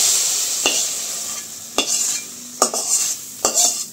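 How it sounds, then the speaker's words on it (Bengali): A spoon stirs chopped bottle gourd into simmering milk for payesh, with a few sharp scrapes and clinks against the pot over a steady low hiss, and no talking. "তো এই যে দুধটা বসাইলো। আচ্ছা দুধটা অনেক ভালো, মোটা সর পড়ছে একটা। হ্যাঁ এখন এই যে লাউটা দিয়ে দিতেছে"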